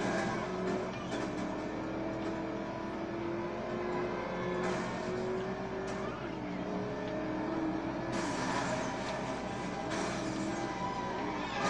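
Cadillac engine driving in the video game Driver San Francisco, a steady droning hum with shifting pitch as the car accelerates, continuous and fairly close throughout, with faint clatter at moments.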